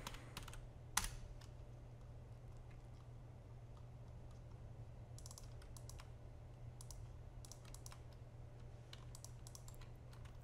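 Fingers tap softly on a computer keyboard while a Far Cry 5 map editor is in use, with quiet, irregular clicking runs and a single louder keystroke near the start.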